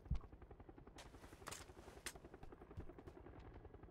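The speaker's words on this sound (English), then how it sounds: "I hear helicopters." A helicopter's rotor thumps in a rapid, steady chop in the video game PUBG, moderately distant, with a few sharp gunshot-like cracks over it.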